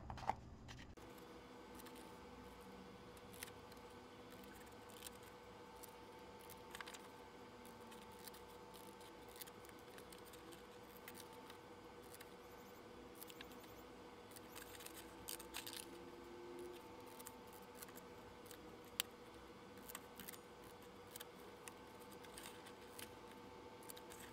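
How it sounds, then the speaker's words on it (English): Scissors cutting through a cardboard matchbox, faint, quick snips scattered irregularly over a quiet, steady background hum, close by and with no talk. "I'm going to cut the rest of it with a pair of scissors"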